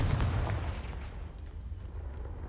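Confringo fire spell blasting in the Hogwarts Legacy video game, a loud booming burst at the start that rumbles and fades into a low, noisy tail.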